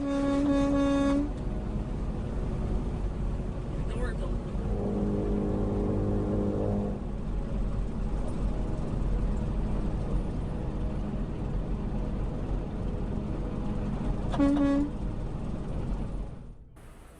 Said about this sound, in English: He honked in order to get his attention